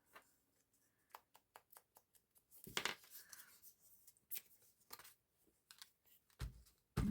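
Pink paper is torn by hand for a journal page, heard as close, quiet rustling and crisp ripping bursts mixed with light taps and clicks, with no talking.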